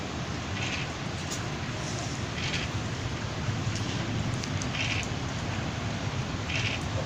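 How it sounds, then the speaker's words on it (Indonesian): Steady rain falls over mangroves on an Indonesian coast during a fishing outing, a dense continuous hiss with scattered brighter drops throughout, nothing else standing out. "Hujan berhenti, hujan lagi, masih di situ."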